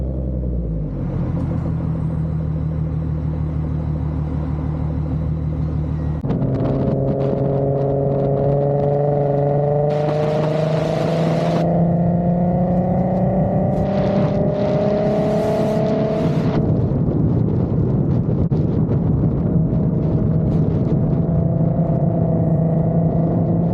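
Car driving captured on an Insta360 X3 with wind noise reduction and no external microphone covers: a steady engine rumble that climbs in pitch through gear changes, with brief bursts of road and wind hiss, and no voices.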